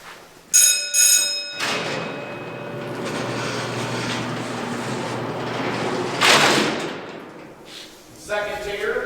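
Heavy steel cell doors on the first tier of an old prison in West Virginia ring out with two loud bell blasts, then rumble and slide along for several seconds before slamming shut with a booming clang and echo.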